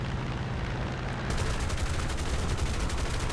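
Aircraft machine guns fire in War Thunder as a dense, rapid rattle that starts partway in, loud over continuous engine roar.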